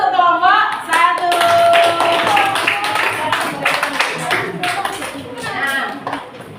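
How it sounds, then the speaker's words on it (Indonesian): Pupils in a sixth-grade Indonesian science classroom clap for a group, a burst of close, loud hand claps mixed with voices and cheering that fades into scattered claps. "Tepuk tangan untuk kelompok 1."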